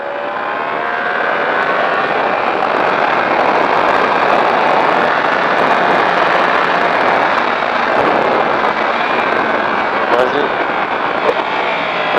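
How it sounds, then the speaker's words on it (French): A vehicle accelerates flat out on the Magny-Cours racing circuit, its loud, sustained engine roar holding steady and close for the whole stretch with no break. "Et là on accélère à fond."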